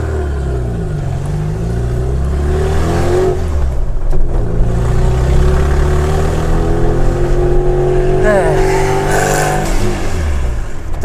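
A small Tavria car's loud straight-through exhaust revs up and down several times, a throaty rumble sweeping in pitch, close to the listener with no talking.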